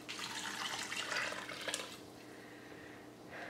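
Running water splashes steadily into an Instant Pot for a couple of seconds, then thins to a quieter trickle and fades, with a faint hiss behind it.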